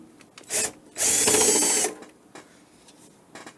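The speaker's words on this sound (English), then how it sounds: "Okay, so we will put the screwdriver. So we will open all 6 screws on the top." A powered screwdriver backs out the top screws of a Clear-Com HME DX210 wireless intercom. It gives a short whirring burst, then a longer one of about a second, close and loud, followed by faint clicks of handling.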